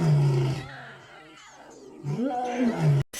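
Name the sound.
baby big cats trying to roar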